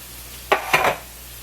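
Crushed tomatoes from a can sliding and plopping into a vegetarian chili pot on medium heat, two short wet glugs close by, the second longer and trailing off, then quiet.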